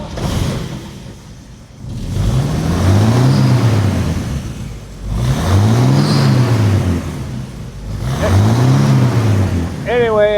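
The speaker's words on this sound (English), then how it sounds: "Andrew's showing you the split exhaust system on there" A 1952 Chevrolet pickup with a split exhaust system runs nearby, its engine rising and falling in three swelling revs with a low, throaty rumble between brief dips.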